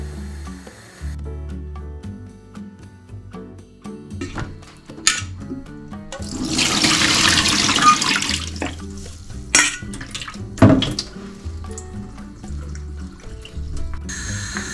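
Water runs from a kitchen tap for about four seconds while boiled taho tapioca pearls are rinsed, with scattered clinks and knocks of pots and utensils before and after, and no talking.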